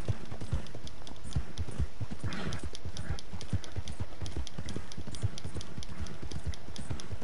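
Rhythmic clip-clop of horse hooves at a steady gallop in Red Dead Redemption 2, continuous and fairly close, with no talking.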